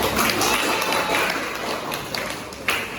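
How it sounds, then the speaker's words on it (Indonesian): Classmates in a school classroom clap for a pupil's answer, a dense, loud patter of many hands lasting a few seconds with a few sharper taps near the end. "Beri tepuk tangan untuk teman kalian."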